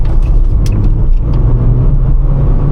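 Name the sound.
cheap car being driven hard around bends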